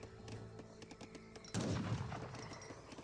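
Carbine cavalry in Age of Empires 3 open fire in a battle against buffalo units, a rapid rattle of distant gunshots that swells into a louder, denser volley partway through.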